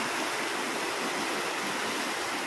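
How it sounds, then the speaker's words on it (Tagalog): Heavy afternoon rain pours down in a steady, dense hiss, filling the space evenly without pause or talking. "Ang lakas din ng ulan."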